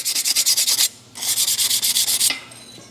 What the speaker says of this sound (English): now I'm sanding around it, and I'm sanding the anvil